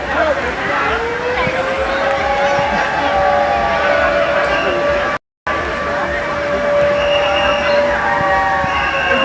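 A wave pool siren at a water park wails with a steady, slowly rising tone over loud crowd babble and shouting voices, cutting out briefly midway.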